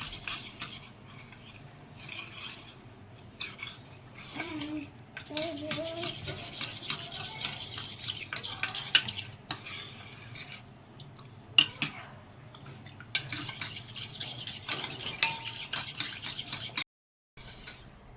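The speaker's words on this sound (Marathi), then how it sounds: "हे दूध जे आहे ते आपण कस्टर्ड पावडरमध्ये टाकून घेणार आहोत आणि हे खूप छान प्रकारे असं मिक्स करून घेऊ" Milk is stirred into custard powder in a bowl, a close, soft rubbing and scraping of a spoon that comes in bursts with short quiet gaps.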